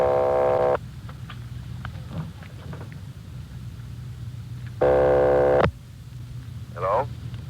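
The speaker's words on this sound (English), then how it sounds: "They're ringing the number, Sergeant." An old-style telephone ringing on the line in a vintage radio police drama, two long buzzing rings separated by a pause, with faint line hiss and scattered noises between them.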